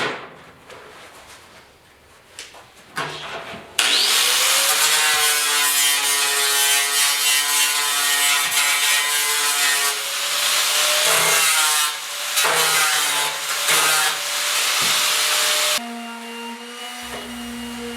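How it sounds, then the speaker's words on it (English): Orbital sander working over the body panels and inner fenders of a 1972 Ford F100 4x4 truck, a loud steady whirring grind running for about twelve seconds after a brief start, then cutting off, with no talk. "gonna sand that with the orbital"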